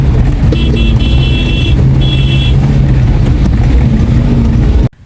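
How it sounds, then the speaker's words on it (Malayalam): A 2012 Tata Nano LX car on the move, giving a steady, loud engine and road drone with faint higher tones on top, running unbroken until it cuts off abruptly at the end. "ടാറ്റ നാനോ LX 2012 മോഡൽ വണ്ടിയാണ് കേട്ടോ ഇത്"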